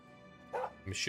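Dog in the video game Oblivion Remastered giving two short, close barks in quick succession over a quiet background.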